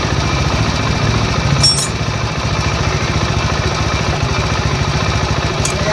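A TVS XL 100 BS6 moped engine, freshly tightened after repair, idles close by with a steady, even mechanical chugging that runs unbroken throughout, with a couple of faint high clicks.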